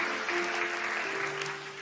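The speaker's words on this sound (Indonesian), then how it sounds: "Beri tepuk tangan yuk buat Tuhan kita Yesus Kristus" Church congregation clapping at a Sunday service, a dense, steady wash of applause with a sustained tone running beneath it, fairly even and continuous.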